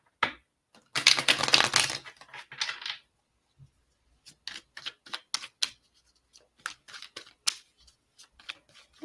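Tarot cards for a love reading being shuffled and pulled: a loud riffling burst near the start, then a long run of soft, close flicks and taps as cards are handled and laid down, with no talking.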